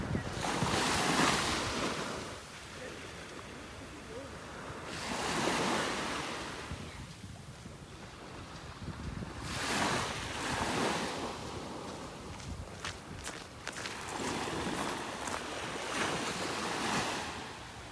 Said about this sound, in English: Just some little teeny tiny waves.